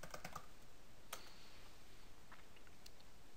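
Quick keystrokes on a computer keyboard while entering a command-prompt command, faint clicks in a short irregular burst with a brief pause, against quiet room hiss.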